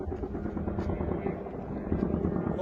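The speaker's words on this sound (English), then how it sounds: "And we hear the next drone flying in and over." A drone flies in and passes overhead in a war zone in Ukraine, a constant buzzing rotor drone that swells and fades slightly, fairly distant, with faint background noise.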